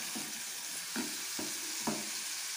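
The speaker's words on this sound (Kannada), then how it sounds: "ಫ್ರೈ ಮಾಡ್ಕೊಳ್ಳಿ ಇದನ್ನು ಚೆನ್ನಾಗಿ." Egg bhurji sizzles and fries in a pan, a constant crackling hiss broken by a few soft stirring scrapes, close and alone with no voices.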